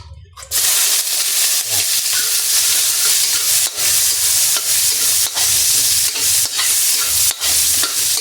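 Cooking oil hitting a hot pan and sizzling loudly up close, a sustained frying hiss broken by periodic scraping stirs, as the pan is readied for sautéing onions.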